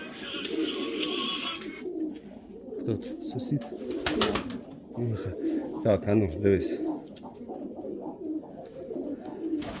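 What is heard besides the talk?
pigeon cooing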